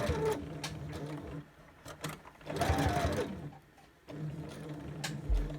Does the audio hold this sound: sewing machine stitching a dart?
yes